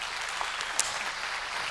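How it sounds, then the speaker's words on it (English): Steady, dense applause from an audience at a Nordic eCommerce Summit in Malmö, a continuous wash of clapping with a few sharper claps standing out, fairly loud and without talk. "everyone please give Robert another round of applause"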